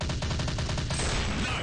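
Rapid automatic gunfire rattles in an Android war shooter, a quick burst of evenly spaced shots followed by a denser clatter, loud and close.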